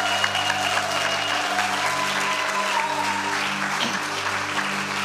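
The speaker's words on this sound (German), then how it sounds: "Bitte nochmal einen kräftigen Applaus" An audience at a German-language church conference gives loud, sustained applause that runs evenly from start to finish, while steady musical tones hold underneath.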